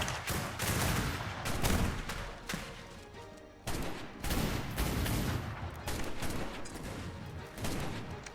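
Video game gunfire in a multiplayer shootout, with sustained rapid bursts of loud shots that pause briefly and then resume, close and dense throughout.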